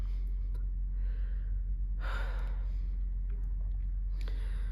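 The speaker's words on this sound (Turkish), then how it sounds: "Ah şu an nefes nefese kaldım." A person breathes heavily a few times, with one sharp gasping breath in the middle, close to the mic with a low hum behind.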